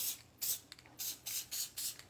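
Sticky spray adhesive from an aerosol can, released in about five short hissing bursts with brief pauses between them, close and fairly quiet.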